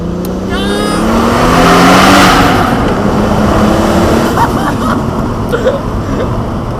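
A single-turbo Toyota Supra engine roars past close by, revving hard and swelling to a peak before settling into a rumbling drone with turbo whistle overtones.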